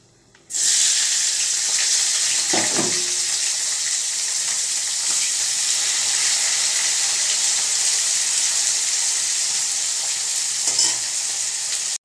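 Chopped onion hits a hot karahi already holding fried whole garam masala, bursting into a loud, steady sizzle that holds for the full stretch, with a couple of faint stirring scrapes and no talking.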